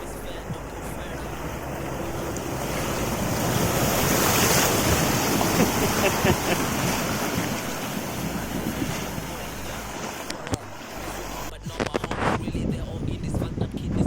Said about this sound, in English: This was a good 50 metres of river crossing.